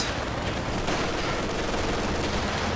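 Rifle fire from G43-armed Grenadiers in Company of Heroes 2, a dense, steady battle roar of overlapping shots and gunfire holding at the same loudness throughout, with no talking.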